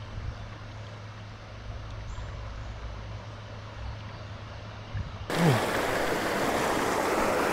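Creek water rushing over a rock bed, a soft steady flow under a low hum that swells suddenly into a louder, closer broadband wash near the end.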